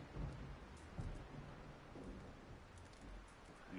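Thunderstorm in Red Dead Redemption 2 with steady, dense rain and low rumbling thunder that swells now and then, faint and continuous throughout with no speech.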